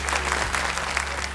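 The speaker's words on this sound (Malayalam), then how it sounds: "കൊടു കൈയടി." A television studio audience claps in brief, dense applause, close and steady for about a second.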